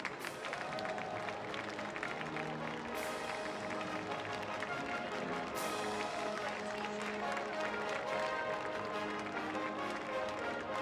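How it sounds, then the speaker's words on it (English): An audience applauds at a showjumping horse show arena, with steady, dense clapping that fills the whole span. A few sharp bursts stand out, and an announcer's voice carries faintly beneath it. "Give a legend of this arena, Mr. Andrew Inglis, a big round of applause"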